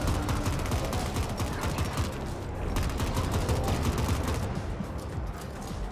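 Gunfire rattles in the sci-fi shooter game The Ascent: dense, continuous bursts of rapid shots, loud and close, pounding on throughout with barely a pause.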